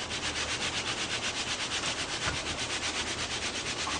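Wet concrete on a countertop is screeded to remove the excess, giving a steady, close scraping rub in quick, even back-and-forth strokes, with no voices.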